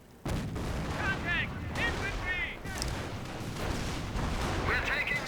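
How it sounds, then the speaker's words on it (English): Troops fire on retreating British soldiers in Company of Heroes: Panzer Elite, a dense, continuous clatter of rifle and machine-gun shots with booming reports, steady throughout under game voices. "Troops shooting the retreating British"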